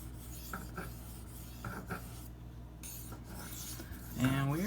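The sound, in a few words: sharpening Spyderco Endura K390 knife on a stone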